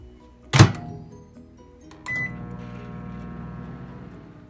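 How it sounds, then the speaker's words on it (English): A microwave oven heating a bowl of grits: a loud thunk of the door at the start, then a beep and the steady, close hum of the running oven with its turntable, no voices. "we're going to go ahead and put these back in the microwave for 2 minutes"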